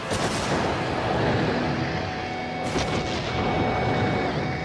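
A car crashes through a wall of fire and sets off a pyrotechnic explosion, heard as a loud sustained roaring blast with a sharper burst midway and a rumbling tail.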